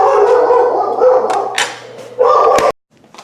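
A dog barks and yowls loudly at something out in the street, close by, in a couple of sustained bursts that cut off abruptly.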